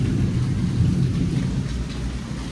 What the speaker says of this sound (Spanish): Trueno, lluvia.